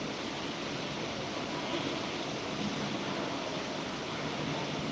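Heavy rain pours down in a constant, dense hiss that doesn't change over the whole stretch. There is no talking.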